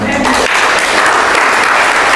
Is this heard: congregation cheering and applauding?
yes